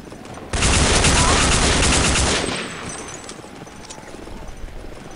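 The player's main weapon in Day of Defeat opens up in a loud, sustained burst of rapid fire lasting about two seconds, then fades into softer scattered shots and background noise.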